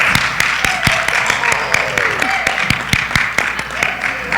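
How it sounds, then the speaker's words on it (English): Sparse, distinct hand claps from a small school committee meeting audience, sharp individual strikes under a continuous hum of talking voices. "Let's give him a round of applause."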